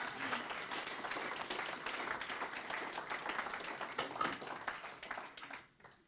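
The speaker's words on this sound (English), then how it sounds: "let's give Bobby a round of applause." A crowd at a Minnesota Highway 100 bridges event applauds steadily with dense, continuous clapping that holds for several seconds, then tapers off at the end.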